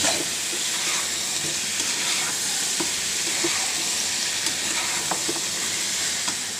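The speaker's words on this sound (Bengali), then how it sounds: "মশলা দেওয়ার পরে 10 মিনিট ধরে এমন করে কষিয়ে নিতে হয়, তাহলে মশলাটাও ভাজা হয়ে যায় কষানোটাও হয়ে যায়।" Spices for a chicken and vegetable curry stir-fry in a pan on the stove, giving a dense, steady hissing sizzle with occasional soft scrapes of stirring, close and continuous without talk.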